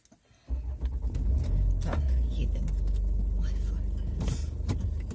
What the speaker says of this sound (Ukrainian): Ну їдемо помало. Я не буду летіти вже тепер.